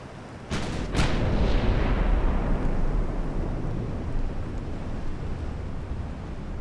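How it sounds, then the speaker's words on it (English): Heavy warship artillery salvos in a naval battle game, two sharp booming blasts close together followed by a long rumbling roar that slowly decays. "like almost all of her salvos are hitting me"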